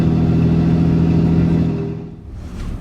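A diesel truck with a freshly installed 68RFE automatic transmission accelerates, its engine drone rising steadily and loud before dropping away as it shifts near the end.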